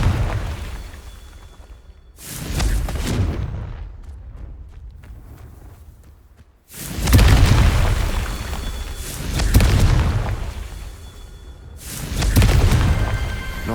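Fiery Confringo spell blasts from Hogwarts Legacy, a Hufflepuff wizard's combat: four heavy booming bursts spaced a few seconds apart, each a loud close crash trailing into rumble, with quieter gaps of ambient sound between.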